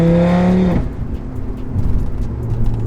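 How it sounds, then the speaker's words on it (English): An Audi RS3 engine with a loud exhaust revs high then drops off sharply, leaving a low rumbling exhaust idle with faint crackles, close and loud. "This exhaust is gonna get me into trouble"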